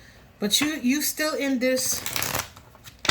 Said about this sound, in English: I'm going to shuffle this a couple of times.